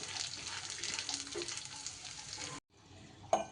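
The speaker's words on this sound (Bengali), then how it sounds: "এবার সব উপকরণগুলো একটু সুন্দর করে ভাজা ভাজা করে নিতে হবে।" Dried red chillies and cumin crackle in a pan with a steady close sizzle, then a brief cut to near silence before the soft frying returns with a sharp clink.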